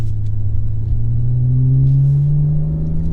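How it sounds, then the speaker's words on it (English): Steady low engine rumble from a 2015 BMW 535xi with aftermarket exhaust work, heard from inside while driving, rising slightly in pitch as it gently accelerates, with no talking over it. "It's got a little exhaust work, I think. I hear it. Sounds pretty good."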